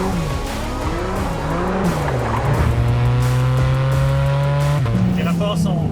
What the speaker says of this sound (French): On perçoit tellement bien le son du moteur sur cette voiture